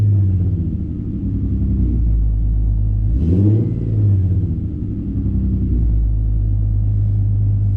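A car engine fitted with an idle chop mod, switched on by push button, runs a steady low, loud rumble close by, with one brief rev swelling up around the middle before it settles back to a lumpy idle.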